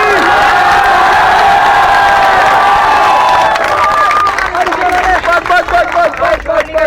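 A large protest crowd at the Anna agitation in New Delhi roars with sustained cheering and shouting, loud and dense, with raised voices and what sounds like rhythmic chanting emerging toward the end.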